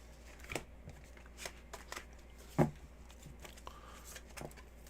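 Tarot cards being shuffled by hand, a few soft riffling and slapping bursts with one sharper clack midway, faint and close against a quiet room.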